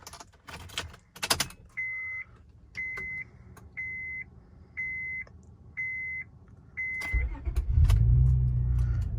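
A 2003 Honda Accord EX-L V6 sedan with keys jangling and a rhythmic series of six warning beeps before the engine cranks and catches at the end, settling into a loud, close rumble.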